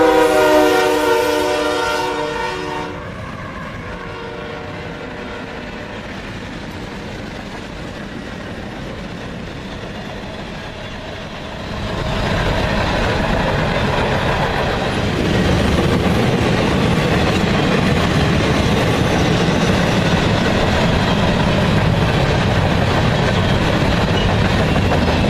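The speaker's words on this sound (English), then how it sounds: "Here is Q582 on its way to Radnor Yard with a string of locomotives including number 1074, the Erie-Lackawanna Heritage Unit." CSX freight train Q582 heading to Radnor Yard, led by a string of locomotives including Erie-Lackawanna heritage unit 1074, opens with a loud horn blast, then rumbles past close by with a growing roar and steady rail clatter.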